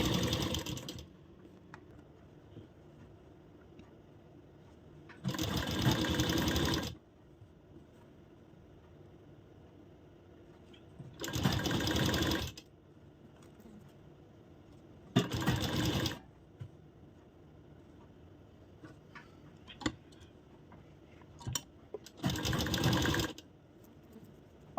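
A sewing machine stitching a princess cut blouse seam runs in four brief bursts of whirring, each a second or two long, separated by longer quiet stretches with faint fabric handling and no speech.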